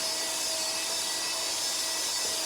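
An electric dog clipper fitted with a number 10 blade buzzes steadily while shaving the belly of a Miniature Australian Shepherd, a continuous close whirring hum over a brief moment.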